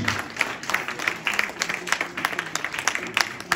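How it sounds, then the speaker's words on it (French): Audience applause at a PPA-CI party celebration in France, a dense patter of many hands clapping steadily, with some voices and crowd noise mixed in throughout. "On les applaudit, on les acclame."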